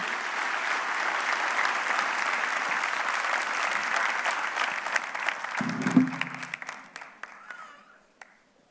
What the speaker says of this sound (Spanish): les pido que le den un buen aplauso a Nando y Jessica Steidel.